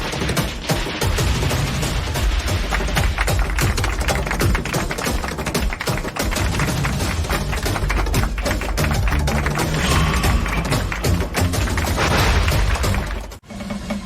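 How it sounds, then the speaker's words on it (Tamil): Firecrackers burst in a dense, continuous crackling barrage at a village celebration, loud and near, with rapid overlapping pops and bangs sustained throughout before cutting off abruptly near the end. "முதல் கையெழுத்து போட்டதும் பட்டாசு வெடிக்க சொல்லிருங்க. அதான் வெடிக்கிறாங்க."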